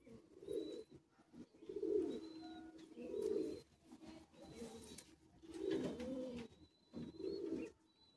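Kolkata high-flying Madrasi pigeons in a loft give about seven deep, throaty coos in a loose rhythmic series, close by and clear against a quiet background, with faint high chirps from other birds between them.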